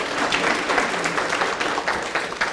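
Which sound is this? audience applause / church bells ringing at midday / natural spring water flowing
audience applause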